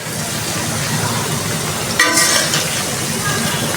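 Ground turmeric, chili, coriander and salt sautéing in a pan for a rui fish head and bottle gourd greens ghonto, a dense loud sizzle with a brief metallic clink partway through.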